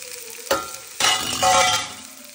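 Sprouts frying in oil in a pan over a low flame, a loud hissing sizzle that surges as they hit the pan, with stirring scrapes, close up and without speech.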